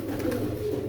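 Low, soft cooing of a Laku pigeon close by, a continuous throaty rolling murmur with no talking.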